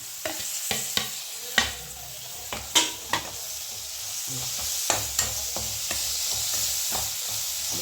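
Tempering sizzles steadily in a pan with a small tomato added, for a rice and chana dal kadubu breakfast. A loud, close hiss runs under sharp clicks and scrapes of stirring, with no voices.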